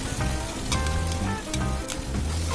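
Onion, cashew and green chili paste hits hot oil with garlic paste in a pan, giving a steady close crackling sizzle with small pops throughout.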